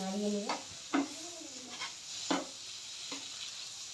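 Peas seasoned with salt and chili powder are stirred in a wok, making a few scraping strokes and light clatters over a faint sizzle, with a brief hum of voice at the start.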